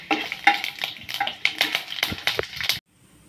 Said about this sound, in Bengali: ভালো করে নাড়াচাড়া করে দিতে হবে।